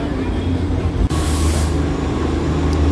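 Darjeeling toy train rolling past houses on its track, a steady loud mechanical rumble with a hissing burst of air partway through, heard close from on board.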